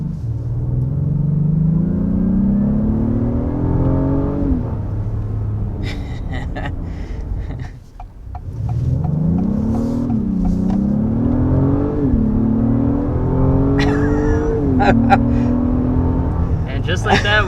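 A 2022 Acura MDX Type S SUV accelerates hard on a test drive, its engine note rising in pitch through several gear changes with a steady interior road rumble, while faint noises from the occupants come through.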